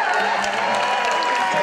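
A concert crowd at a band's show cheers and claps steadily, a continuous wash of applause and whoops with no break.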